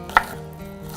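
A single sharp knife chop lands on a board while onions are cut finely, one close crisp knock followed by quiet room tone.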